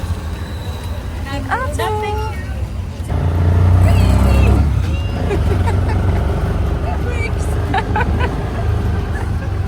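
An auto rickshaw rides through hectic Bangalore traffic, its engine droning steadily amid passing vehicles, with horns and voices scattered throughout and a louder surge of road noise midway.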